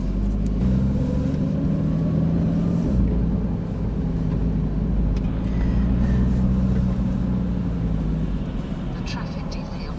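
Porsche Cayman pulling away from rest and accelerating, a steady low engine drone that holds loud and close throughout, gently rising in pitch as speed builds.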